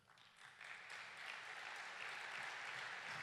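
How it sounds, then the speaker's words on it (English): Applause from a breakfast audience at a city economic development event, a broad wash of clapping that swells after half a second and holds steady and full to the end. "Round of applause for those guys."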